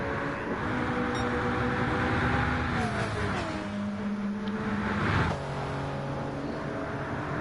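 GTE race cars in Gran Turismo 7 at the High Speed Ring drone at high revs, engine tones sliding down through gear changes and overlapping as cars swap position, loud and continuous with no voices.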